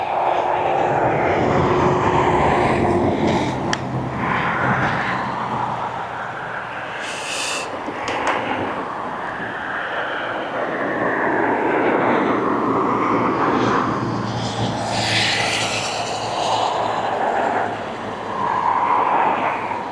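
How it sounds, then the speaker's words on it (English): A Jet2 airliner arriving from Zakynthos at East Midlands Airport, a loud sustained jet engine roar that swells and fades over twenty seconds, heard from nearby with no talking. "Jet 2 from Zakynthos, not very far away"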